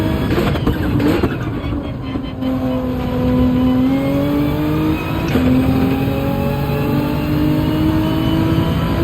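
A GTR race car in a racing video game revs its engine up toward the red line, the pitch climbing in long sweeps with a shift partway through, loud and continuous.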